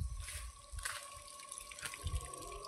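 Water from a 320-foot borewell motor pump gushes and splashes steadily at moderate volume, with a faint steady hum running underneath.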